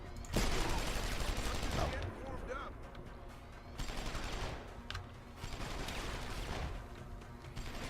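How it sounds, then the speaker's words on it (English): Rapid bursts of gunfire and impacts ring out in the Deus Ex video game, loud shots clustered across the clip with a brief exclaimed voice, sniper rifle fire amid other weapons. "This is why we kept the sniper rifle with us."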